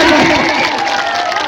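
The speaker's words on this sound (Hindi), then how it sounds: "जनता ताली बजाए जोरदार।" A loud crowd at a kushti dangal wrestling match in Shravasti claps and cheers, a brief, dense roar of voices and applause close to the microphone.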